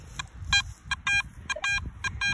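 A metal detector hunting buried silver coins in a yard gives repeated short electronic tones, about eight or nine bursts in irregular rhythm, close and clear over low handling rustle and ground scraping.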